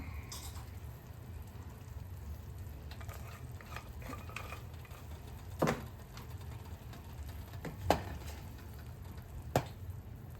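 A spoon stirs chicken tinola in a cooking pot, a steady low simmering texture with a few sharp clinks of utensil against metal, close and fairly quiet, with no talking.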